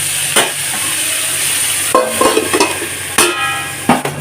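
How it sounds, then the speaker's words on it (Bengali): Jackfruit seeds and potatoes being stirred in a pan for a curry, a steady loud sizzle with intermittent scraping stirs near the end. "ভালো করে নাড়াচাড়া করে নিয়ে থালা দিয়ে চাপা দিয়ে দেব"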